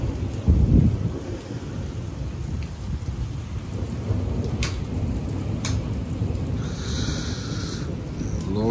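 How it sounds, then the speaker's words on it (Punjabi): A night rainstorm hisses steadily as deep thunder rumbles roll underneath, with a louder crack near the start and sharp rain spatters on a surface now and then. "ਉੱਪਰ ਦੇਖ ਆਵਾਜ਼ ਗੜਕਣ ਦੀ।"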